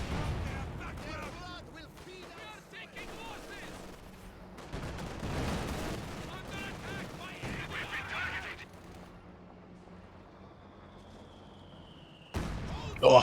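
A 120mm gun firing in the Company of Heroes 2 video game, with brief booming shots and scattered explosions in a battle soundscape under steady commentary, ending with a sharp blast.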